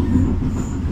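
Rome Metro line B train running near Rebibbia station, a steady loud low rumble of wheels and car bodies that fills the short stretch without pause.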